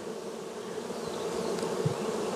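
Honey bees buzz in a continuous, steady drone, close but fairly soft, with a few individual bees passing briefly.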